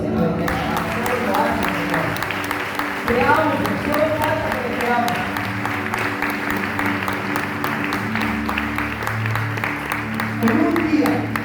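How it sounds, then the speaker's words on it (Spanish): A church congregation claps along during a sermon, with brisk, even clapping and crowd noise while a preacher keeps speaking over it and music plays underneath. "Den un aplauso al Señor"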